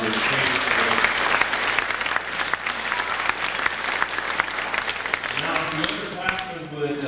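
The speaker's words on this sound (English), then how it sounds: "Even though they can't hear you, give them a round of applause." Audience applause fills a 1998 awards banquet hall, steady sustained clapping from a crowd throughout, with a voice faintly audible beneath it near the end.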